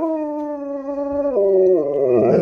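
Husky dog howling up close, one long sustained tonal howl that steps down in pitch partway through, then rises and wavers at the end, with no talk over it.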